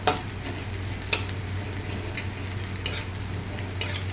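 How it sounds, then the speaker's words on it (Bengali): Whole cumin seeds fry in oil with browned onions, giving a soft, steady sizzle and crackle, with a few sharp ticks and pops spread through it, faint and close, with no speech. "আমি হাফ চামচ মতো গোটা জিরে ফোড়ন দিয়ে দিলাম"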